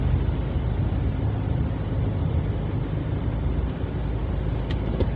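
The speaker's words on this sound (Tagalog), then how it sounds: "oh, mahaba din yung traffic oh." Steady road traffic on a congested street in Manila near Asiana City, Parañaque, a dense continuous rumble of idling and creeping engines close by, with no talk.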